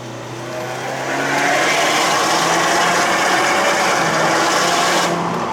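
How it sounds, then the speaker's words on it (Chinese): A Subaru WRX S4 with a turbocharged 2.0-litre engine and CVT climbs a mountain road. Its intake and engine make a loud, steady drone that swells after the first second and holds, with no clear blow-off burst. "蛮喜欢那个吸风的声音，"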